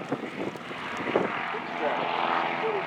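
B-25 propeller bomber passes during a WW2 weekend flying parade, a steady droning engine roar that swells slightly as it goes by, with a commentator talking over it.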